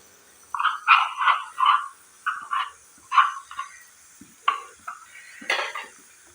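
Yogurt and dry spice mix being stirred together in a pan for paneer curry, giving a series of short scraping, clinking strokes in uneven bursts, close and fairly quiet, with no talk.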